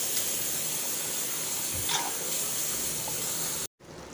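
Kathrikkai gotsu, a Tamil eggplant gravy, simmering in a pan, giving off a steady steamy hiss and soft bubbling that runs without a break and then cuts out abruptly near the end.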